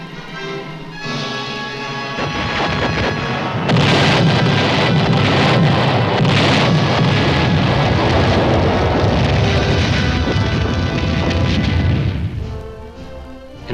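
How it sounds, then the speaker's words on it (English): Artillery batteries fire proximity-fused shells during West Point summer field training, a heavy sustained rumble of distant blasts and rolling booms that swells loud for several seconds, then fades. "4 batteries to fire proximity fuses."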